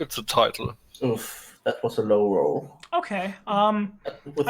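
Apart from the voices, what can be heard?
None of the usual background noises is heard.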